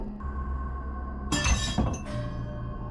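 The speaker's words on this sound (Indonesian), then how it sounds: "Terlihat gelas jatuh dari meja dan pecah." A drinking glass drops from a kitchen table and shatters, with a sharp burst of breaking glass and scattered tinkling shards over a low background hum.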